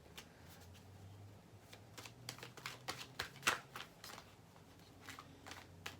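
Tarot cards riffled in a quiet room, a run of soft papery flicks and taps with a sharper burst midway, fairly close and without speech.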